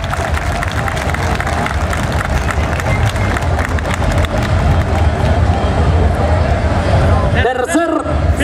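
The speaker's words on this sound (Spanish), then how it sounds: "El aplauso." Crowd at a rooster tournament in Iguala, Guerrero, applauding for a finalist, a dense steady roar of clapping and crowd noise throughout, with a few louder bursts near the end.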